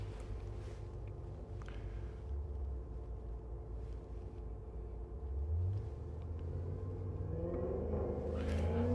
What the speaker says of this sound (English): He's probably got to burn his rubber real quick.